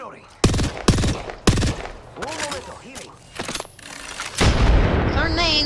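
Gunfire and grenade explosions in the Apex Legends video game: sharp bursts of rapid weapon fire, heavy booming blasts and some scattered smaller impacts, loud and close, with a voice briefly heard between the shots.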